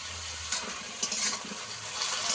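Malabar spinach fries in a pan with a soft, steady crackle and sizzle, punctuated by a few stirring scrapes and light splashes, heard close with no voices.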